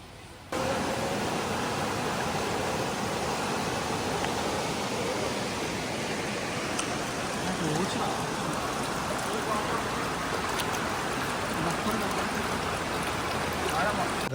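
Rampa waterfall flowing, a steady, dense broadband rush of falling water close by, continuous and loud with no pauses.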